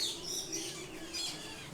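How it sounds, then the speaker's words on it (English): Many birds in an aviary at Disney's Animal Kingdom give a few high chirps and tweets over a soft, continuous background hum, with no talking. "there's a lot of birds in here. A lot of birds. A lot of birds flying around."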